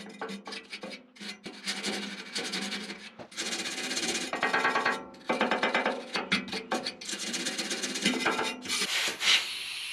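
Welds on a workbench caster mount being cleaned with a steady abrasive rubbing and rasping that comes in long bursts with brief pauses, close and continuous, with no talk.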